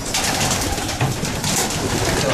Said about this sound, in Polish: tu widzimy kolejne gołąbki